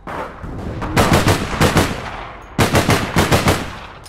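Booming shots ring out in APB Reloaded, two quick clusters of heavy blasts in rapid succession separated by a brief lull, loud and close.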